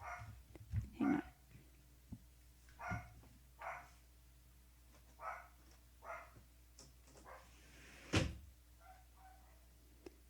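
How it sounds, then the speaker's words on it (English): A neighbouring dog barks in short separate bursts heard from a slight distance through a quiet indoor room, the barks coming irregularly with pauses between them and one louder bark near the end. "The dog next door is barking."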